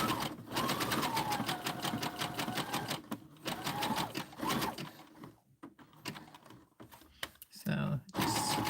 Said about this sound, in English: I'm just going to go ahead and sew this down